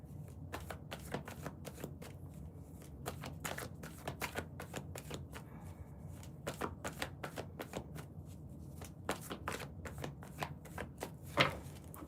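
A deck of tarot cards is shuffled close up, giving rapid riffling bursts and crisp slaps repeating steadily over several seconds with short pauses, alone without talk.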